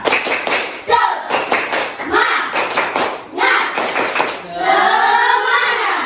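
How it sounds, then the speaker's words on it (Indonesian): Standing schoolchildren repeat a patterned spirit clapping routine in their classroom, loud rhythmic bursts of claps in short groups, with the children chanting together and ending in a loud collective shout. "Sekali lagi, tepuk semangat."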